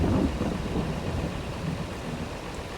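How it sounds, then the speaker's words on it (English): Rainfall and a low thunder rumble from the video game Farming Simulator 22, heavier at the start and easing slightly, a continuous wash of rain noise with no voices. "And it's starting to rain."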